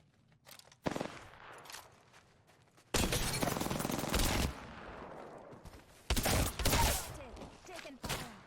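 Bursts of automatic weapon fire in Apex Legends, several loud volleys in quick succession with pauses between, mixed with other battle noise and occasional voice.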